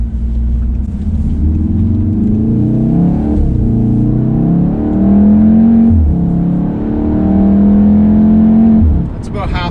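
A VW MK7.5 Golf R, the 300 hp AWD hot hatch, revs hard under throttle in race mode, its engine note climbing repeatedly through gears in loud, close sweeps heard from the cabin.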